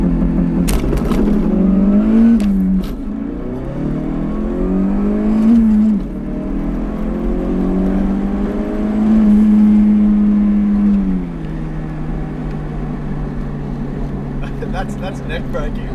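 A 500 hp daily-driven Ford Focus RS with a fully built engine and manual gearbox launches and pulls hard, its loud engine note climbing through rising revs and gear changes, with people talking over the roar.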